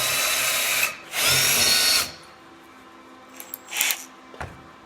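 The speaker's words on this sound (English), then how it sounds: "Now I'm gonna drill through, and hopefully I don't wreck any of the threads." Power drill boring out a broken bolt with a bigger bit, two loud close bursts of high whining drilling, then quieter short spurts and light clinks.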